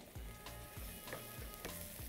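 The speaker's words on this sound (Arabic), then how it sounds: "جيب بصلاية حلوة كده كبيرة مقطعة قطع صغيرة واشوحها" Chopped onion sautéing in ghee with a pinch of salt, a faint steady sizzle broken by a few soft stirring scrapes in a pan.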